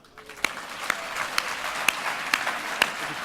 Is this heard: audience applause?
yes